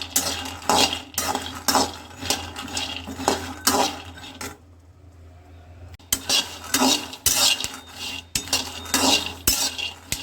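Groundnuts roasting on low gas in a pan, stirred with a metal spoon, giving dense repeated scraping and clattering strokes against the pan with a short pause midway.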